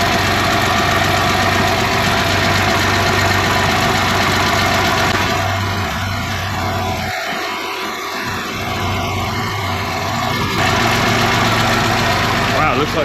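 A 1974 Daimler Sovereign Series 2 engine idles lumpily, its uneven rumble steady and close, dipping briefly midway, with a voice talking over it.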